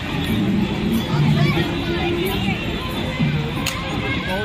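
Crowd murmur at a busy fair held in the park in front of Victoria in Kolkata, a steady outdoor hubbub of many voices with no single speaker standing out, fairly close and continuous throughout.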